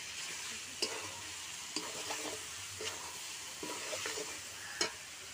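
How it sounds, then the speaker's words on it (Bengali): Chicken stir-frying with capsicum in a pan for a Bengali curry: a steady soft sizzle, with faint scraping stirs every second or so, close and quiet, and no talking. "মাংস কষানো হয়ে গেছে, এখন ক্যাপসিকামটা দিয়ে দিচ্ছি"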